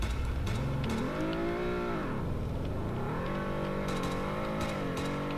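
Engine of a Honda Civic driving in the Roblox game Greenville, a steady, continuous revving drone with rising and falling pitch as the car accelerates, loud and unbroken throughout.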